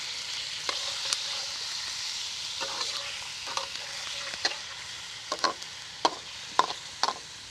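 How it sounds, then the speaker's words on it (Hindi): Chicken pieces fry in a karahi for white chicken karahi, a soft steady sizzle punctuated by sharp clicks and scrapes of a spatula stirring against the metal pan. "दो 3 मिनट के लिए इसे इस तरीके से फ्राई कर लेंगे।"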